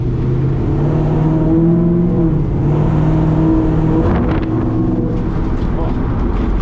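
Chevrolet C10 street truck with a supercharged LSA V8 and 6L90 transmission driving laps, its engine note rising and falling through revs up close, with a voice talking over parts of it.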